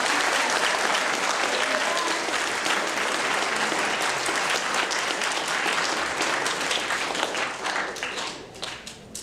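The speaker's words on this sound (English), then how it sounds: "So I think they deserve a round of applause." A dense, sustained round of applause from the audience at a school's year-end awards ceremony, loud and even before thinning out into scattered claps at the end.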